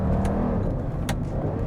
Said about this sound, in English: Downshift, it rev matches,